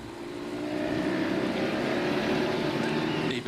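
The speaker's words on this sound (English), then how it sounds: "You could hear the throttle firmly open up as the road straightened up." Motorbike throttle opening up on a road during a cycling race, a steady loud engine drone rising as the road straightens, close and continuous.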